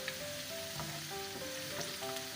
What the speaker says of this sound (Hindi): थोम का तड़का ला रहे हैं इनू।